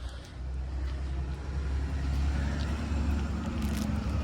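Quiet rumble of a passing bus, a low engine roar rising gently and holding at a distance, with faint outdoor background and no speech.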